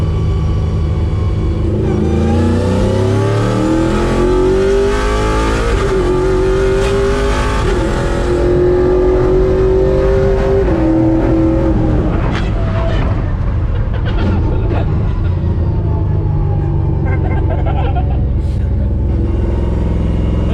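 A Toyota Hilux work truck with a sequential gearbox accelerates downhill. The engine roars close and loud, climbing in pitch through several gear changes, then settles into rougher, broken road noise.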